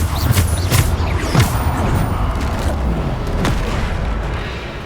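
Bombarda spell blasts in Hogwarts Legacy, a run of loud booming impacts with crackling debris landing over several seconds, one burst after another amid dense game sound.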